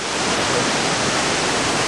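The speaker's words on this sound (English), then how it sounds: "May get a little bit of a drift off the waterfall." Waterfall along a trail in Golden Ears Park, a steady broadband roar of falling water with spray, loud and unbroken throughout, no voices.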